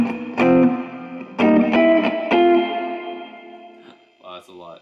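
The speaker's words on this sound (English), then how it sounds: "if you guys really want to hear lots of reverb, I can dial it up even more." Electric guitar chords ring out through a Quilter Overdrive 202 amp drenched in heavy reverb, each strum washing into a long sustained tail that slowly fades.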